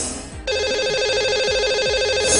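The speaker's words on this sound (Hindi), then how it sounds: "चलिए लगाते हैं इन्हें कॉल और करते हैं बात।" A telephone rings repeatedly on a call line, a steady electronic ringing tone starting after a short pause and continuing in regular pulses, loud and alone with no talk.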